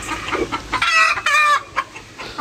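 Roosters and hens at a game farm cluck and call in a close, busy burst, with a few rising crowing-like cries standing out over the flock's steady chatter, and no voices.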